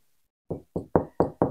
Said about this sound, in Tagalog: Ay, gagi ba yung kumatok niyan?